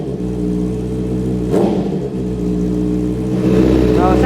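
Honda CB650 motorcycle fitted with an aftermarket exhaust containing fiber packing, revving steadily at close range with a sustained low drone and a brief throttle blip partway through, no talk over it.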